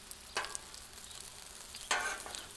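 Keto tortillas cook in a hot pan with a quiet, steady sizzle, broken by two brief, louder crackling bursts; no voices.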